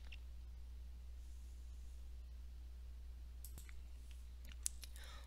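Computer mouse clicks during business software setup: a few faint, sharp clicks near the end, close, over a steady low electrical hum with no speech.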